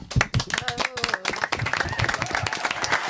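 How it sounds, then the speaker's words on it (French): Audience at a Barrioshow stage event clapping in quick, somewhat rhythmic bursts, close and fairly loud, with voices calling and talking over the hands. "Bien, on peut l'applaudir."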